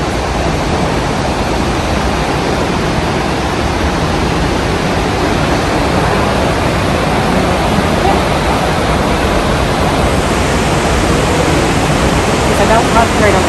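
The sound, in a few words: loud rushing water in Lost River Cave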